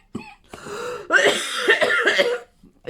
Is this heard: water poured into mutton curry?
no